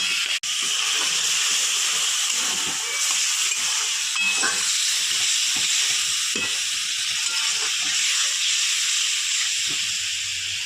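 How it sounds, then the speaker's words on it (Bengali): Water poured into a hot pan of fried taro (gathi kochu) with tomato paste and spices, a loud continuous hiss of steam and bubbling that bursts in abruptly and carries on steadily, close up. "একটু জল দিয়ে দিচ্ছি।"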